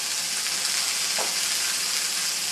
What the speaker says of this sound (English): a nice hot pan, a little olive oil in there. I'm going to sear that for 3 or 4 minutes on all four sides